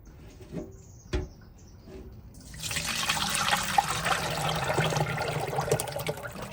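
Liquid from a herbal fermented fish sauce is strained, with a few soft knocks first, then a steady close pour and trickle that continues to the end.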